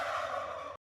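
Turkeys and guinea fowl call at a poultry farm. A loud, steady, harsh gobbling call fills most of the second, then cuts off abruptly, with no talk.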